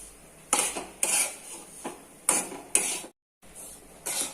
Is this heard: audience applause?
no